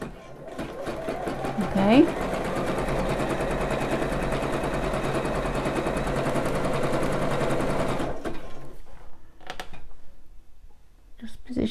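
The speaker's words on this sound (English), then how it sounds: "if I can go slowly enough that it's three tiny stitches one way and three back the other way" A sewing machine runs a slow three-step stitch on a bra, a close, continuous rattling chatter lasting about eight seconds before stopping, with a voice speaking briefly afterward.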